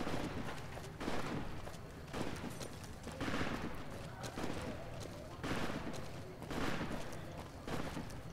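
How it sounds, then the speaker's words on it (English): Gunfire from the game Fallout New Vegas, bursts of rapid shots recurring about every second in a rough rhythm, quiet and somewhat distant, with a voice faintly present. "Are you shooting?"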